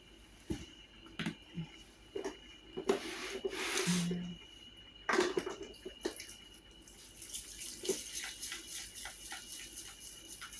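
Dishes washed by hand outdoors with a blue brush, in a spot without running tap water: intermittent scrubbing, rubbing and splashing with clinks of dishware, close and moderately loud, in uneven bursts.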